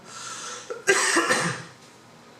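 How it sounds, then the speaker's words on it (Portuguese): A couple of harsh, hacking coughs burst out close by, one after another, with no talking around them. "Me perdoe a tosse"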